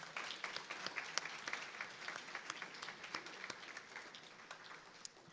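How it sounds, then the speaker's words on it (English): An audience at the Hillsborough County Neighborhood Awards 2019 applauds the neighborhood award winners, a steady wash of many clapping hands heard from a distance, fairly soft and gradually tapering. "let's give all of our winners a big round of applause"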